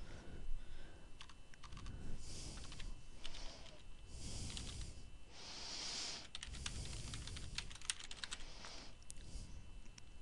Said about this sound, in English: let me just type the company's address here.